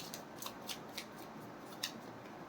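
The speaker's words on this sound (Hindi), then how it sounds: "This is my last shuffle." A deck of tarot cards is shuffled by hand. Soft, quick riffling bursts sound faint and close, in short irregular flicks.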